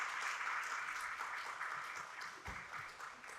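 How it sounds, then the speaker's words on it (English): An audience applauds at a jazz ensemble concert in Chicago, a sustained crowd of clapping hands that holds steady and slowly fades slightly toward the end. "Please give them a round of applause."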